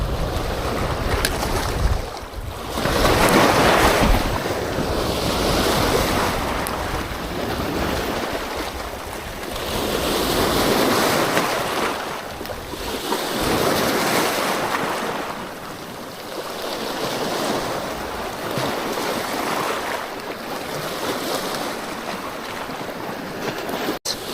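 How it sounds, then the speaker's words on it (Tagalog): Ocean waves break and wash in repeatedly in slow surges, with a constant rush of water and wind in between, heard while fishing at sea. "may basagan na ng alon"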